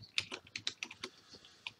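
Quick bursts of keystrokes on a computer keyboard during a typing race, a close, uneven clatter of individual key taps with no voices.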